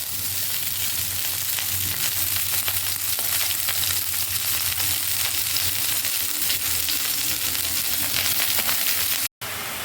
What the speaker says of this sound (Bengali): এবারে আমরা সজনে ফুলটা যেটা রেডি করে রেখেছিলাম সেটা কচলে নেওয়ার পরে ওটা সজনে ফুলটাও একটু নেড়ে নিতে হবে